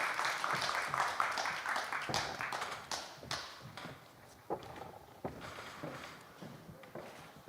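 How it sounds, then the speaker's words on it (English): Scattered hand clapping from a panel-discussion audience at a technology forum, sparse and uneven with individual sharp claps rather than a dense ovation, fading into isolated taps. "give to our guests a round of applause."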